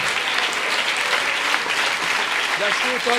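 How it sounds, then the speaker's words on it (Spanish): A church congregation applauding together, steady dense clapping throughout with a voice speaking over it near the end. "Démosle un aplauso al Señor."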